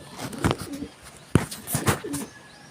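Pigeons cooing close by in a loft, including a blue bar and a black bird, a few soft throaty coos in separate bursts with short pauses between.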